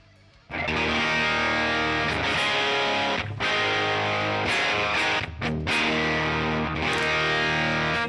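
Heavily distorted electric guitar chords, from a DiMarzio Super Distortion bridge pickup through an amp simulator, ring out loud and sustained, with a few short breaks between strummed phrases.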